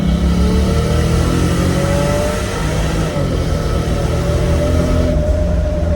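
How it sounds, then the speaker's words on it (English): A 450hp Toyota Supra launches hard, its engine roaring loud and steady throughout with rising whine tones, the revs climbing under sustained power; no distinct blow-off valve burst stands out. "That's a blow-off valve coming out the hot air"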